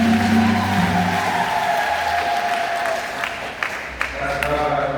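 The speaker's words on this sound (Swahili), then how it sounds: "Tunaomba tuunganishe kwa makofi makubwa." A church congregation at a Sunday parish Mass claps together, a steady broadband patter of many hands that lasts throughout, with voices and a tonal hum running underneath.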